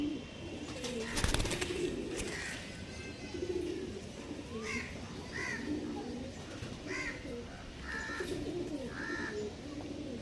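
Pigeons coo in soft, repeated throaty phrases nearby, with a sharp clatter early on and faint background chatter and other birds.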